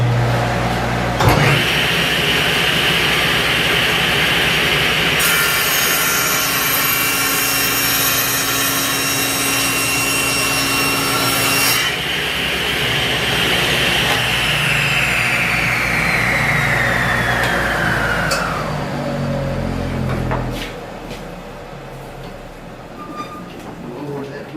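A saw rips a board of mahogany while a dust collector runs, making a loud, sustained motor roar with a rising whine under the cutting noise that winds down toward the end.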